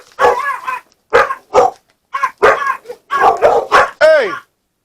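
Dogs barking indoors, a loud, close series of sharp barks in irregular bursts with short pauses, the last one stretching into a whining yip.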